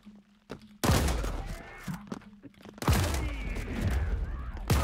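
Two loud shotgun blasts boom in the video game Paint the Town Red, each with a sharp crack and a long rolling tail, over a faint low game hum.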